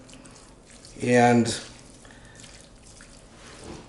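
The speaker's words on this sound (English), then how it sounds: "So we're going to put a little bit of water in here." Water pours briefly into a cooking pot for about half a second, a loud splashing burst between bits of kitchen talk.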